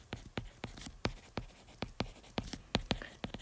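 Writing on a board during a school science lab lesson: quiet, rhythmic strokes and taps, roughly a dozen sharp marks in quick succession over a soft background hiss, with no voice.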